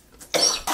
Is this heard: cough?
yes